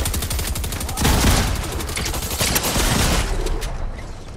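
Gunfire in a video game comes as a loud, dense fusillade, with rapid automatic shots rattling on throughout and a heavier burst of fire about a second in.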